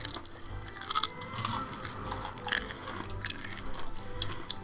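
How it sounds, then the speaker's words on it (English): Someone chews food with the mouth open, close and wet, giving a run of irregular crunches, smacks and slurps with short pauses between them. "I'm just making chewing noises with my mouth"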